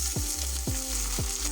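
Boiled bottle gourd leaves and fried dried chillies sizzle together in a pan, with a steady frying hiss broken by three evenly spaced low thumps as the mixture is pressed and stirred.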